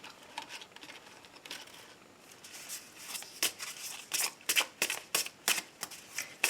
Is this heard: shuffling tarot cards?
yes